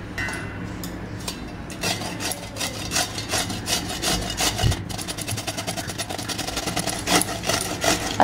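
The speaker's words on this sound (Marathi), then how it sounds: "असा पूर्ण दोडका मी आता इथे किसून घेणार आहे" A whole ridge gourd rubbed against a kitchen grater, making steady, rhythmic rasping strokes that run continuously and fairly loud and close, with no talking.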